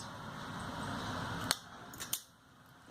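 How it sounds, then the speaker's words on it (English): Scissors snip beading thread on a loom-beaded belt, a couple of quick close cuts after a soft rustling handling noise, quiet and without speech. "I'm going to cut the thread."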